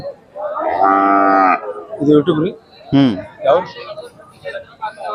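Khillar cattle at a livestock market in Sangola: a cow moos loudly and long, followed by several shorter moos and lowing calls close by, with faint crowd noise behind.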